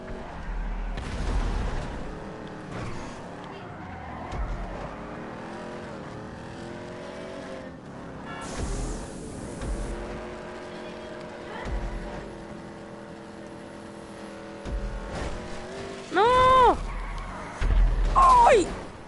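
Cars race in GTA V. Engines roar and rise in pitch through gear changes, and loud tire squeals and bursts of impact come near the end.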